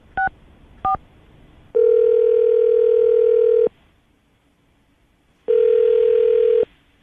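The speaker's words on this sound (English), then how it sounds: "We're going to call him right now and see if we can get him on the phone." A telephone call starts with two short dial beeps, followed by two long, steady ringback tones separated by a silent gap, clear and close.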